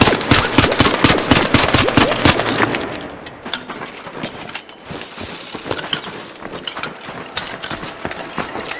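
Rapid bursts of gunfire from shooting training dummies in ARC Raiders, a dense automatic volley loud at first, then sparser, scattered shots.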